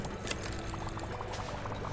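Water pouring steadily into an aquarium tank in the Megaquarium management game, a continuous bubbling, gushing flow that stays even and close throughout with no talk over it.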